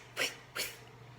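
A voice imitates a spinning lawn sprinkler with two short, sharp breathy hissing bursts in quick succession, close and fairly quiet, with no other sound.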